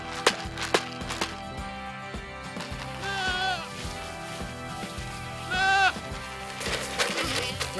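Show goats bleat in wavering cries, two clear calls a few seconds apart over a busy background of clatter and murmur, fairly close.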